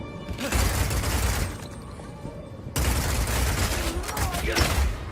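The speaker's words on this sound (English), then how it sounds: "we have crossbows that work like sniper rifles, shotguns, and assault rifles" Crossbow fire in the video game Path of Exile 2: a dense, continuous barrage of rapid shots, impacts and shattering bursts for about five seconds, loud and busy with a brief dip midway, with speech layered over the action.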